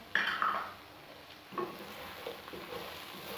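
Chicken with chicken powder and crushed black pepper is stirred in a hot pan: a soft steady sizzle broken by a few scraping, clinking stirs near the start and middle.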